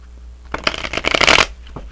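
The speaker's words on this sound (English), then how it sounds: "So let's go ahead and pull some oracle cards." A deck of oracle cards is shuffled by hand in one quick, close riffle that rises into a crisp, dense flutter of cards for about a second, then stops.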